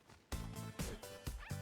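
A dog yips and whimpers in several short, close bursts, each a high, nasal bark-like cry separated by brief pauses.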